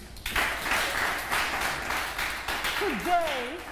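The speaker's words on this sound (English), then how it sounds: "Clap for them, please." A television reality show audience applauds the hosts at an eviction task, a steady wash of clapping lasting several seconds with talk and a brief vocal sweep near the end.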